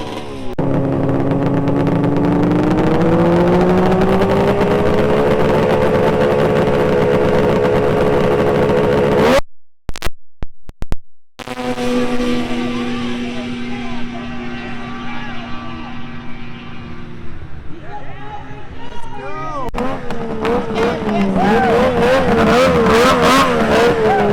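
A stock 1000 Arctic Cat Thundercat snowmobile drag racing revs loudly and close, with a rising engine whine, a brief cut-out, then a hard launch that howls and fades into the distance.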